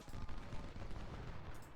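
Massed musket and cannon fire rumbles from a Civil War battle at a fort near Washington in Ultimate General: Civil War, a dense, low, continuous crackle heard at a distance.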